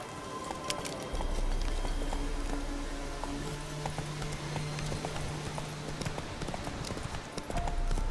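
Horse hooves galloping in The Witcher 3, a steady clip-clop rhythm running almost the whole time, fairly close and loud over a continuous low game ambience.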